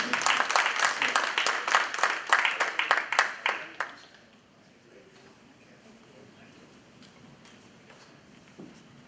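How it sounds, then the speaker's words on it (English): A conference audience gives a big round of applause, a lively burst of clapping for around four seconds that stops abruptly and leaves a quiet room. "let's give her another big round of applause."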